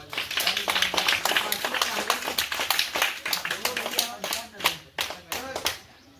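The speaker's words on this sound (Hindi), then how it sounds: "ताली बजाओ" Hands clap in a fast, sharp, uneven burst during a street magic show, each clap crisp and close, with brief voices mixed in and the clapping thinning out toward the end.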